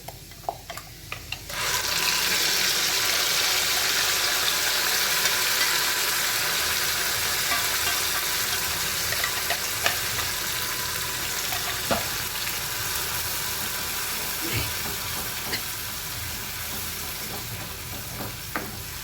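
Ground chilies fry in a pan for Schezwan sauce, a steady loud sizzle that starts abruptly after a quiet moment and continues throughout, with occasional faint scrapes and clicks of stirring.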